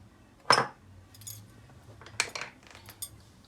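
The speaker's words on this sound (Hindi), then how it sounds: "आइए हम मसाले मिक्स करते हैं।" A utensil scrapes and clinks in a bowl while spices such as kasuri methi, anardana and ginger-garlic paste are mixed for Peshawari chapli kabab. A few sharp metallic clinks stand out at uneven intervals over quiet background, with no voices.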